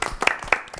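A handful of scattered, uneven claps during a live Twitch stream with a celebrity cast, brief and moderately close, over a faint background tone.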